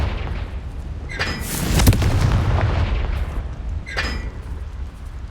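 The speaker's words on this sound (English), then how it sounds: "Confringo!" A Confringo spell explosion in the Hogwarts Legacy video game: loud rumbling blasts with sharp cracking bursts, a big detonation near the middle swelling into a heavy roar, then another crack toward the end.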